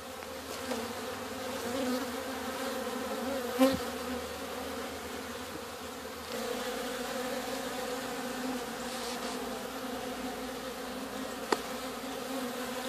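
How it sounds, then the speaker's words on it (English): Honeybees and drones buzz continuously outside a hive in a wall on a Florida afternoon, a steady droning swarm hum close by with no talking. "A lot of drones out here because this is the time of day where they send the drones out in the afternoon to go mate."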